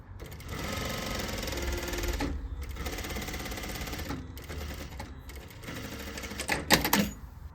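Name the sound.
sewing machine sewing a skirt pocket down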